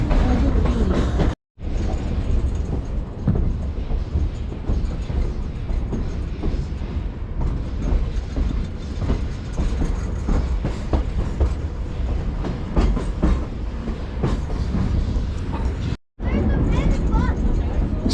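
A Nevada Northern Railway train rolls through a tunnel near Ely, Nevada, its steady rumble and clickety-clack of wheels filling the scene, with two brief dropouts and a voice murmuring at times.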